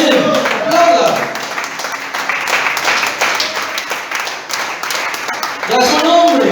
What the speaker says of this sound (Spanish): Aplauda.